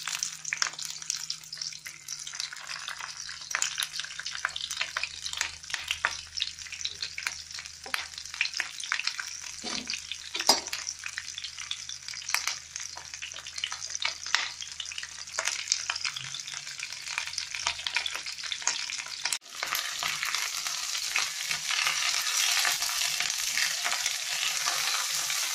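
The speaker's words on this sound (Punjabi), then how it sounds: "ਮਿਰਚਾਂ ਸਾਡੀਆਂ ਫਰਾਈ ਹੋ ਗਈਆਂ" Green chillies fry over a high flame in a pan, giving a steady close sizzle with light stirring scrapes throughout, a low hum underneath, and the frying growing louder and brighter near the end.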